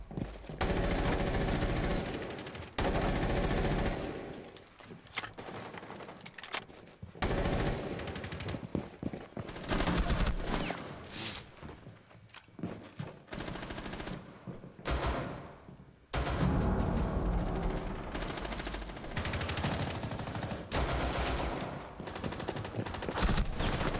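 Loud, rapid bursts of automatic gunfire from a first-person shooter team deathmatch crackle in repeated volleys with short pauses between them, close and dense throughout.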